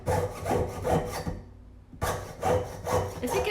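A saw blade lubricated with Burr Life cuts in rhythmic back-and-forth rasping strokes. The strokes pause briefly midway, then resume at the same steady pace, close and clear.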